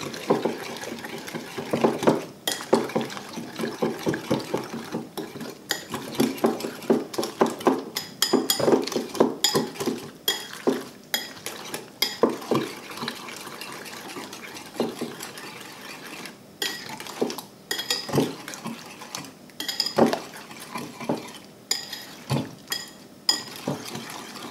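Eggs beaten with green chilli and ginger in a bowl for a capsicum omelette, the fork or whisk making a quick, steady run of close metallic clinks and scrapes with no talking.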